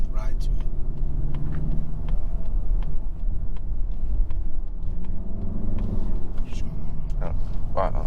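A 2022 Mazda 3 Turbo Hatchback Premium with a turbo engine is heard from inside while driving: a steady low engine and road rumble with light ticks and knocks throughout.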